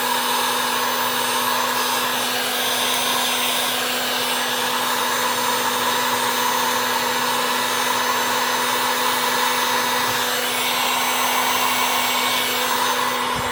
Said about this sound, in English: we're going to take the heat gun and turn it on, and we're going to heat up right here where we had the clamp on there